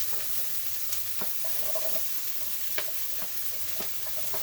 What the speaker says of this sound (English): So I'm going to go ahead and put in my veggies. Put that nice sear on there.